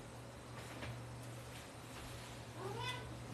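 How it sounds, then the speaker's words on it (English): A cat gives a few soft, faint meows over a steady low hum of background noise, with a rising, drawn-out meow near the end and no talking. "I hear your little meows."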